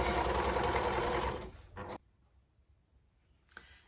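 An electric sewing machine back-stitching a seam, a fast steady whirring hum of the needle for about a second and a half, then it stops, followed by brief handling noise and quiet.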